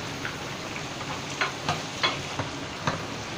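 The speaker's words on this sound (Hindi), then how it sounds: "मेथी दाना भी डाल देते हैं और ज़ीरा भी डाल देते हैं" Fenugreek seeds and cumin sizzle in hot oil with a constant fizzing hiss, broken by a few sharp pops and stirring clicks, close and without talk.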